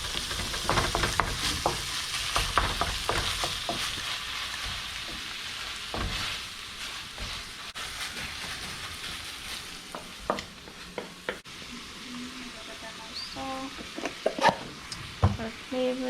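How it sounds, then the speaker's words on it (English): Nacho filling sizzles and fries in a pan while a utensil stirs it, giving steady crackling with irregular scraping and clacking strokes throughout, close and moderately loud, with no talking. "See that? Stirring it up."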